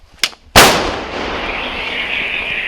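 An 80-year-old American M114 howitzer fires once: a sharp, loud blast followed by a long rumbling decay and ringing, preceded by a small click or thump.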